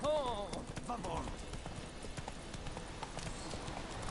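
A horse's hooves trot in a steady, close clip-clop rhythm while riding in The Witcher 3, with a brief voiced sound near the start before the hoofbeats carry on alone.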